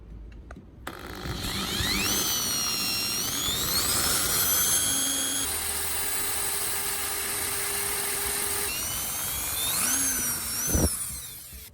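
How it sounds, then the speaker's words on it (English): A power drill bores a small hole near the hanging hole in the handle of an adjustable wrench. A steady loud whine rises and falls with the load, up close, with shifting pitch over about ten seconds and no talk. "you drill a small hole near the hanging hole on the handle of the adjustable wrench"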